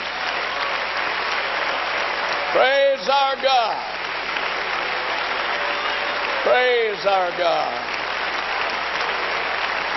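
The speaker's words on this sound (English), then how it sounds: "Now clap your hands to the Lord." Church congregation clapping hands at a 1996 worship service, a dense burst of applause throughout while a voice leads sung praise phrases twice over the top.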